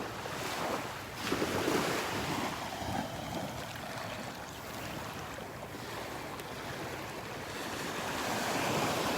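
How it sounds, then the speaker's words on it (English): Wind buffets the microphone while surf rolls in on a Gulf beach at Delnor-Wiggins, a broad, fairly soft, continuous roar that swells and eases, with no one speaking. "we're going to hear that wind."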